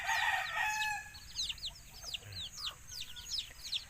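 A rooster crows at the start, followed by repeated quick chirps and clucks from several birds nearby over a low steady background hum.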